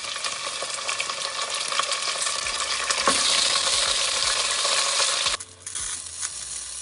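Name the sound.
washed mutton frying with onions and chillies in oil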